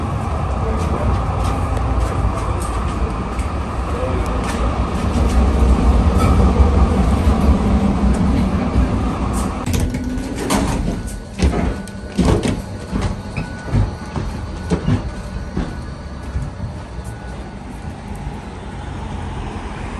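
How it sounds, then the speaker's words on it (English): A passenger train rumbles steadily, then gives way to clattering and clicking as it slows on arrival, with people talking nearby throughout. "That's the train that I came with"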